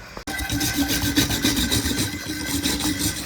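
A steady, gritty rubbing and scraping repeats in a quick back-and-forth rhythm, close up, as an engine valve is lapped with grinding paste on a 1983 Audi 80 GL B2 cylinder head.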